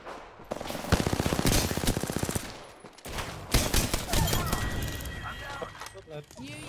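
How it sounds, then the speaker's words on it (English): Rapid automatic gunfire in an Apex Legends match, a loud burst of evenly spaced shots followed by more scattered shooting, crashes and breaking sounds, with a player talking over the action. "Enemies are shooting at me."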